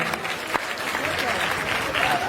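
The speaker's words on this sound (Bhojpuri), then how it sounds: "एक बार जोरदार ताली बजाइए।" An audience at a Bhojpuri stage show in Arrah claps warmly, a continuous patter of applause with a voice carrying over it.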